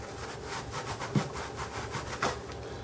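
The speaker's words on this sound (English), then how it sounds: "Take your paintbrush, give a good sweep underneath there, make that really clean." A paintbrush sweeps the floor clean beneath self-stick tiles, a soft steady rubbing and brushing with two brief sharper scrapes, close and alone.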